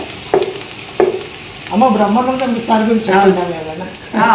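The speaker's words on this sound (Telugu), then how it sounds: "ఇప్పుడు అల్లం వెల్లుల్లి పేస్ట్ వేసుకోవాలి. వేసుకొని ఇది బాగా వేగిన తర్వాత" Ginger garlic paste frying in a pan for mushroom pulao gives a steady hiss with a couple of sharp taps. A voice talks over the sizzle for most of the time.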